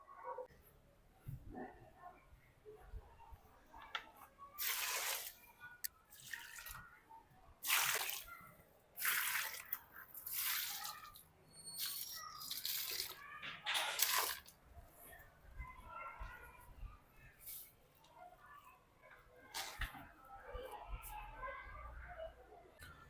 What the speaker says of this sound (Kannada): ಪಾಟ್ಗಳಿಗೆಲ್ಲ ಸ್ವಲ್ಪ ನೀರು ಹಾಕಿಬಿಡೋಣ ರೀ,